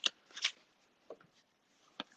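A deck of reading cards is shuffled in a few quiet, close riffles and soft flicks, with brief papery bursts separated by short pauses.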